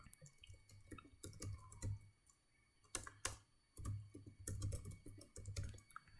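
A computer keyboard typing a project name, close and quiet, with irregular bursts of crisp key clicks and short pauses between words, with no talk.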